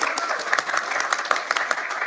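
A short burst of audience applause, with steady clapping from a small group, sounds close and fairly loud for about two seconds during a podcast discussion.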